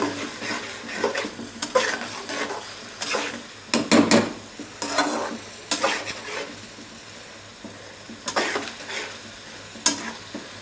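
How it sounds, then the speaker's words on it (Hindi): Spiced potatoes and eggs stirred in a pan over a high flame, with repeated scraping strokes against the metal over a steady sizzle. Close and moderately loud, with no talking. "अब हम अच्छी तरह से इनको मिक्स कर लेंगे और फ्लेम थोड़ी हाई कर देंगे"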